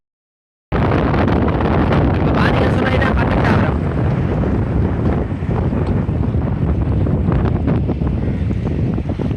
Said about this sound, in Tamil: சரியான காற்றடிக்குது.